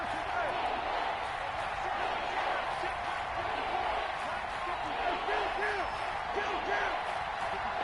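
Continuous stadium crowd roar in a Madden 21 football game, the home crowd on its feet urging on the defense on third down against Seattle, a dense steady wash of cheering and noise with no distinct breaks.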